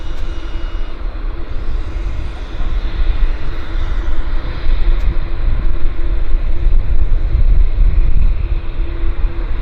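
A Japan Airlines airliner landing at Vancouver International Airport, a loud, sustained broadband jet roar that swells slightly and holds steady throughout.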